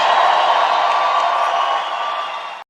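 Crowd applause at a meeting, a steady dense wash of clapping and cheering that holds for about two seconds before fading and cutting off abruptly.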